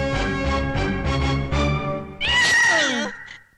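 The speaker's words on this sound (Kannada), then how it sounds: "ನಿನಗೇನಾದ್ರು ಬೆಕ್ಕಿನ ಶಬ್ದ ಕೇಳಿಸ್ತಾ?" A cat meows several times in a row, then lets out a louder, drawn-out yowl with a falling pitch, close and clear, in a scene from a Kannada comedy film.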